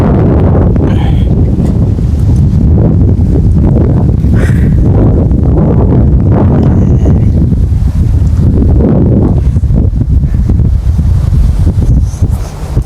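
Strong wind gusts buffet the microphone outdoors on Thailand's countryside, producing a loud, continuous low rumble that stays steady and unbroken from start to finish, with no voices.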